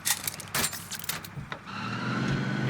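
A vehicle in the game Warzone, heard as a few sharp clunks and rattles at the start, then a steady engine rumble building and holding, fairly quiet overall.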